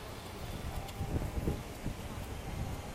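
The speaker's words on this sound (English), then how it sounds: "there's a lot of wind right here" Steady low rumbling wind buffeting the microphone on the Living with the Land ride at Epcot, with gusty swells and dull thumps throughout, fairly loud and constant.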